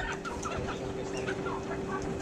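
A large chicken clucking at a resort in Nongsa, Batam, with short, soft clucks repeated over steady outdoor background noise, fairly faint and close.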